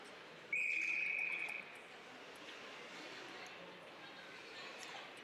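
A referee's whistle sounds at a varsity high school ice hockey game in a rink, one sharp, loud blast lasting about a second over crowd and arena murmur, with no commentary during the blast.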